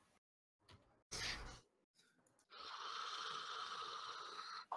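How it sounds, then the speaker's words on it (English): A snoring sound effect rises out of scattered rustles and thumps into a long, loud, rasping drone that holds steady before cutting off. "The snoring gets louder."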